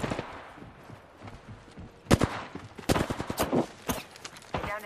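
Rapid gunfire bursts in the shooter video game The Hired Gun, sharp repeated shots clustering in rhythmic volleys after a quieter start, close and loud.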